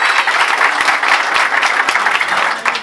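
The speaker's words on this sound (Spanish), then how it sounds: "también les pido un aplauso aquí" Loud, close applause from a crowd at an outdoor inauguration of a dairy, brief and dense with individual claps popping through.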